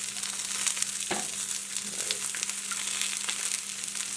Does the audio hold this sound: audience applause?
no